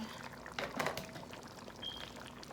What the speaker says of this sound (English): we have added enough water in the chicken